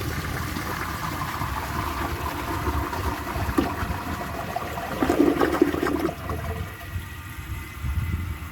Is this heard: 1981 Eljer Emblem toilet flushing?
yes